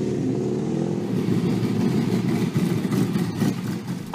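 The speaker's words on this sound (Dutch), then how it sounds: "Er staat een 16-cilinder Cadillac motor in." A 16-cylinder Cadillac engine of about 500 horsepower, running with a loud, deep rumble that pulses unevenly and swells briefly toward the end.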